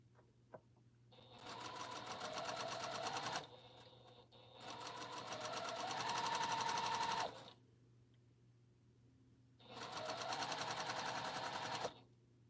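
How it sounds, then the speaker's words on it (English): A sewing machine stitches a quilt in three separate runs of fast, rattling needle strokes, each lasting a few seconds, with quiet pauses between them. The sound is close and clear. "put the needle down where I want it to start, back stitch"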